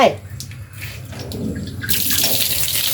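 Water splashes and runs steadily while a pet dog named Lian is bathed at home, the flow turning louder and fuller partway through, with voices talking over it.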